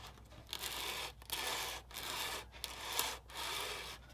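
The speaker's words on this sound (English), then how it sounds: "I'll grab like a sanding stick just to hold it, like, and run on this rail here" A sanding stick with glued-on sandpaper rubs along a small model barge part in a rail jig, a quiet rhythmic back-and-forth rasp of about six strokes separated by short pauses.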